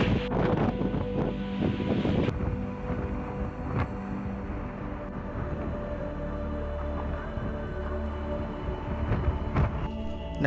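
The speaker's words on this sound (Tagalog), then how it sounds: "at dala na malakas na hangin," Strong typhoon wind striking the Philippines, heard as a loud, continuous roar of gusting air buffeting the microphone, with low rumbling surges and sharper bursts near the start, and no voices.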